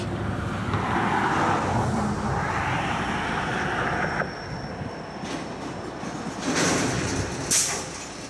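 A railroad car is switched through a rail yard, rolling and clanking with steady rumbling, a few metallic bangs and a brief wheel squeal near the end.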